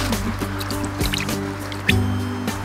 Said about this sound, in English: Ja, splashen met die voetjes.